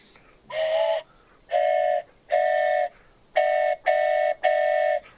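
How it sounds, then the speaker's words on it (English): A steam train horn in a video game sounds six loud, tonal blasts close by, each lasting about half a second, in an uneven pattern with brief gaps between them. "Dang, it's really going buck wild with that horn."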